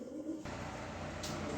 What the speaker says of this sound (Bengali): এখানে আরও এক পেয়ার রেসার কবুতর আছে